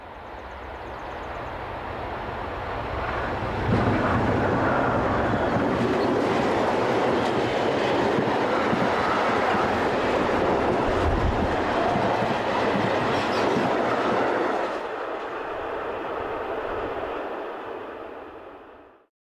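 A pair of turquoise-and-beige DB class 217 diesel locomotives haul a passenger train on the line from Mühldorf to Burghausen, the engine drone and wheel clatter swelling as they pass close by, then fading away.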